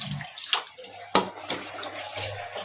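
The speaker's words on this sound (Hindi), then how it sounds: "अभी चिकन धो रही हूँ। चिकन को अच्छी तरह धोने के बाद में ही मैं बिरयानी पकाऊंगी।" Raw chicken is washed under a running tap in a home kitchen, with a steady close splash of water and brief clatters.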